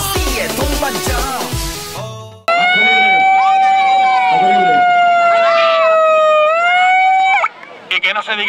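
A loud wailing ambulance siren holds a steady rising-and-falling tone for several seconds at a town festival bull run in Alguazas, Murcia, following crowd noise and shouting, then cuts off abruptly.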